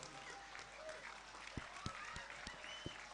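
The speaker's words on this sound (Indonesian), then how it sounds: "Beri aplaus dulu kepada beliau, Wakil Bupati Oku Timur, Gus Yuda" Applause from the crowd at a night sholawat gathering marking NU's 101st anniversary, a faint, steady wash of clapping with a few sharper claps standing out near the end.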